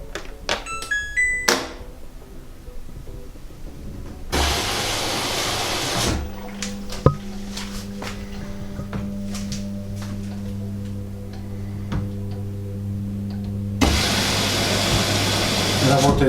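A Hansa WHC 8141 washing machine runs its rinse cycle at 1400 rpm with the drain pump working, giving a steady motor hum between bursts of rushing water, with a voice speaking at times.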